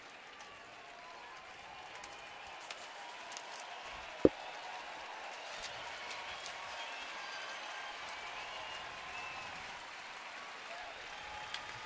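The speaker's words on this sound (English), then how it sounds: "Crowd appreciative of the effort from McAllister here tonight." A baseball crowd applauds a pitcher in the seventh inning of an Oakland at Cleveland game, a broad, steady wash of distant clapping with one sharp close clap partway through.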